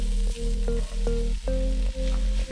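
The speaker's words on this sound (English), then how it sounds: "I will be sauteing the onion, pepper, and poblano in a little bit of bacon fat." Onion, pepper and poblano sautéing in a little bacon fat, a steady loud sizzle with a few stirring scrapes breaking it at regular intervals, close up and without talk.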